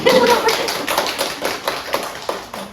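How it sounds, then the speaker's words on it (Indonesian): Scattered audience clapping at an Indonesian novel discussion event, a loose, fairly close patter of individual claps that starts strong and thins into a few separate claps toward the end. "Tepuk tangan dulu teman-teman saya."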